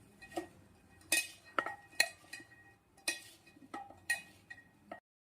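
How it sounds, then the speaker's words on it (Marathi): Salt and ground masala being mixed into a chili pickle, a spoon clinking and scraping against a bowl in irregular bursts, close and fairly quiet, ending in silence. "आणि याच्यामध्ये मी आता घालून घेत आहे चवीपुरतं मीठ आणि आपण वाटून घेतलेला मसाला, आणि याला छानपैकी मिक्स करत आहे."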